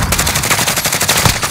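Loud, close automatic machine gun fire from Call of Duty: Modern Warfare, a rapid continuous stream of shots with steady rhythm and a few heavier cracks, no talking.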